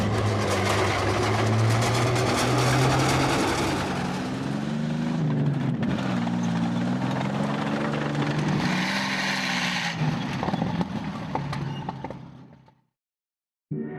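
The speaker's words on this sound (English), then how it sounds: "Finally, the German Junkers Ju-87, or Stuka, dive bomber." A German Junkers Ju-87 Stuka dive bomber roars loudly with a droning, wavering engine note that rises and falls for about twelve seconds before cutting off abruptly.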